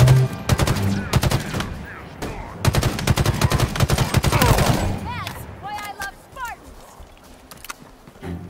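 Rapid bursts of gunfire crackle loudly in the video game Halo Infinite, several automatic volleys in quick succession, then fade to scattered alien chirps and a speaking voice.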